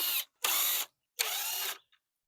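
Power driver backing out T20 star-bit screws from a Ford F-150 grille, two sustained whirring bursts and a shorter one, close and loud with no talk.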